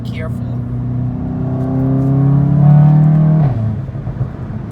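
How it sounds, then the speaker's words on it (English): In-car recording of a car with an APR Stage 2 tune, APR downpipe, Borla cat-back and Vibrant resonator, its exhaust droning and rising in pitch under acceleration, then dropping sharply on a DSG upshift pop, with speech over it. "that was quite the DSG pop"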